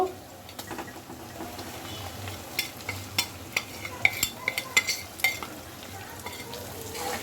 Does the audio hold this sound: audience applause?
no